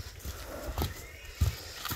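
A two-year-old horse neighs and its hooves thud and clip-clop in irregular, fairly soft steps, with a couple of heavier knocks and no speech.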